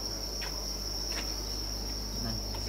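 Crickets chirp steadily at a cricket farm, a continuous high-pitched trill filling the space with no voices present.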